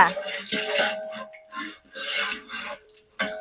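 A ladle scrapes and clanks around a large pot of biryani, in bursts of metallic stirring and rattling close by, with gaps between strokes and faint voices in the background.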